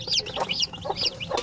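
Newly hatched chicks just out of an incubator hatcher cheep in quick, high, repeated chirps, close and steady, with no talking.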